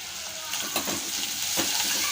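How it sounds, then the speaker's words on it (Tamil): Onions sautéing in a pan with salt and turmeric over moderate heat, a continuous close sizzle with a couple of soft stirring scrapes rising above it. "வெங்காயம் வந்து நல்லா வதங்கி வரட்டும்"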